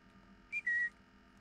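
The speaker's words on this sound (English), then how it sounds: "Okay, whistle again." A person whistles during co-op horror gameplay, two short high tones with a brief gap, the second held longer, heard faintly over a low steady background hum.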